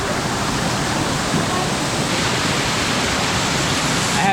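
Waterfall at Meethirigala, a loud, steady broadband roar of falling water filling the whole clip without pause, close and enveloping.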